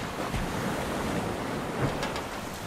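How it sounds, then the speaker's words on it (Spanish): Strong sea waves surge against a ship in a continuous roar of surf and rushing wind, loud and steady throughout. "Un fuerte oleaje empezó a sacudir la nave."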